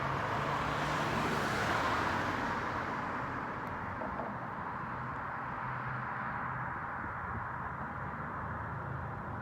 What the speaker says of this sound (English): There you go, with another car going by.